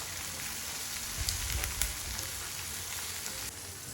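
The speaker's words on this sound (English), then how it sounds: "In a clean pan, heat up vegetable oil and fry your onion" Onion frying in hot vegetable oil in a clean pan gives a steady, close hiss of sizzling with a few brief louder crackles and stirring bumps near the middle, and no voices.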